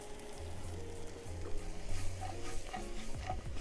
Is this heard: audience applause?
no